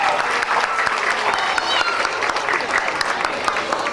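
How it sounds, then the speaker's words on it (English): Warm audience applause at a live show, continuous mid-distance clapping with a few cheers and a voice speaking faintly under it. "Give him a big round of applause."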